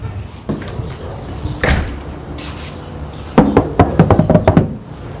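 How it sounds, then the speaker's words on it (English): Someone outside bangs on a house's windows, first with a few scattered heavy thumps, then with a rapid run of loud, sharp knocks close to the listener. "I'm going to bang on the windows as well"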